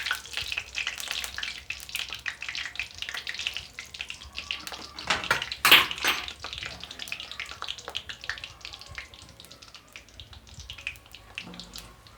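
Chicken koftas fry in hot oil, a bright crackling sizzle with scattered pops and a sharp splash midway as another one is added, close up and then settling to a softer steady bubbling.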